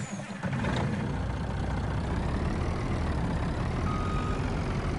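A truck engine in the Farming Simulator 19 video game, on the Goldcrest Valley map, catches after a brief moment and settles into a loud, steady running rumble.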